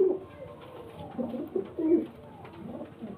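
Pigeons at a home loft, a female and a male among birds offered for sale, give several soft, low throaty coos in short bursts, fairly close, with no talking.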